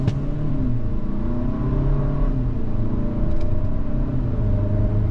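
A 2024 Hyundai Santa Cruz XRT pickup accelerates down the road, its engine note rising into a steady, continuous rumbling whir heard close inside the cabin.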